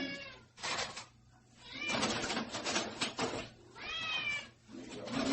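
A hungry pet cat meows repeatedly and insistently before being fed, several loud, drawn-out calls close by with short gaps between them.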